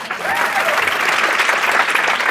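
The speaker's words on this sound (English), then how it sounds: "Clap it up for his hustle." Audience at a startup interview event in Los Angeles applauds, a dense, steady wash of many hands clapping at once, sustained evenly throughout with a faint voice briefly heard near the start.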